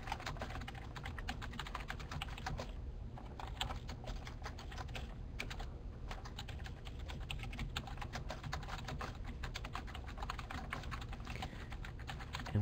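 Rapid, continuous typing on a computer keyboard, with dense irregular key clicks running steadily throughout and a brief lull in the middle, fairly quiet and close with no voices.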